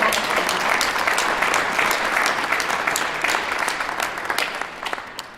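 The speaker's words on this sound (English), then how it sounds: "So a big round of applause." Audience at a street art exhibition against child slavery applauding, a loud sustained wash of many clapping hands that gradually tapers off toward the end.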